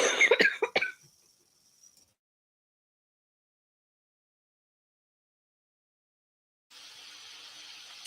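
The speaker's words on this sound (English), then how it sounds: "I'm coughing my head off." A woman coughs in a quick burst of three or four harsh coughs close to the microphone, then near silence follows before a steady low background hiss comes in.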